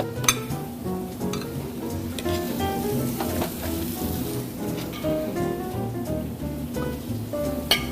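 Duck breast searing skin-side down in a hot pan, then flipped, giving a loud, steady crackling sizzle with a few sharp pan clinks near the start and end, no voices.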